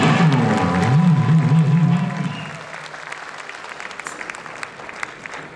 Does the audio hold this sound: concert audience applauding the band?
yes